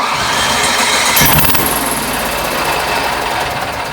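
Cummins Onan 4000 watt RV generator with an oily carburetor being cranked, a loud, close, continuous mechanical rattle that catches into a harsher buzzing run partway through.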